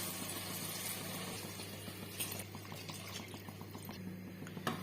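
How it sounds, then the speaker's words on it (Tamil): Water poured into a cooking pot for bisibelebath, a running, splashing trickle over a steady kitchen hum, with a few sharper drips and clinks near the end. "ஒரு டம்ளருக்கு 4 டம்ளர்னு சொல்லி 6 டம்ளர் தண்ணி ஊற்றிடுறேன்."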